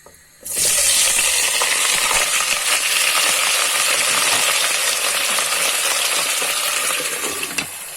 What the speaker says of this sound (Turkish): İsti yağ atıq, xatoflarımızı və doğradığım soğanları.